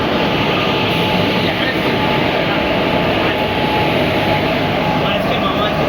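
The down Asansol–Sealdah Intercity Express rumbles steadily through the Dum Dum Junction yard, a loud, continuous rolling roar with no break, heard close by with voices faintly mixed in.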